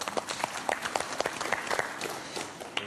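A television comedy-show studio audience claps in a brisk, dense patter of applause for about three seconds, fairly close, with a voice faintly audible underneath.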